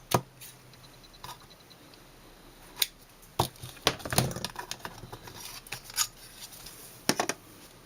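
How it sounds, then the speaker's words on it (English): Scissors snip the thread ends on a handmade poinsettia Christmas card, giving a few sharp, close clicks spread out between quiet pauses. "And cut the ends."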